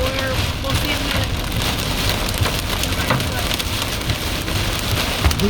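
Hail pelting a car windshield during high winds in Guthrie, a dense, steady rattle of impacts with roaring wind noise, loud and continuous throughout without pause.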